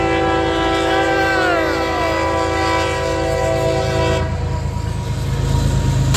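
A CSX locomotive blows its multi-chime horn in a train video game, a loud sustained chord held for several seconds and pitching down briefly, over the steady rumble of the passing train.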